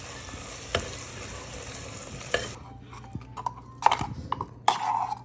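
Onions fry in a pan over medium heat on a home stove, a steady soft sizzle broken by scattered clinks and scrapes of a utensil, close and fairly quiet.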